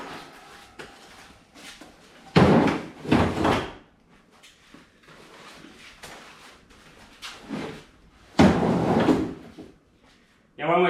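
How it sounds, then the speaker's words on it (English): Folding camp chairs are thrown into a Ford Ranger and trailer with several loud clattering thumps and scrapes, separated by quieter shuffling, with a voice speaking in the gaps. "Then chuck in our camp chairs."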